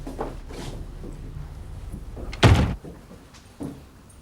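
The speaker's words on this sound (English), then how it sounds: "Shut the door." A single heavy door slams shut in an interior, a loud thump with a brief rattle standing out over quiet room tone, with a fainter knock or thud shortly after.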